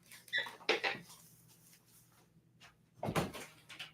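A house door is opened to let a cat in, with a clattering burst of handle and latch noise near the start and a second rattling knock about three seconds later, close and fairly loud, with quiet room tone between.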